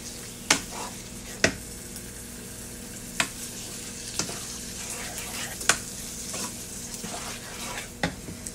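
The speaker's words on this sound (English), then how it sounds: "Now I'm going to add just a little tomato sauce." Tomato sauce is added to a sizzling cabbage roll mixture in a pan: a steady frying hiss runs throughout, with periodic sharp clinks of a utensil stirring against the pan, heard close and without talking.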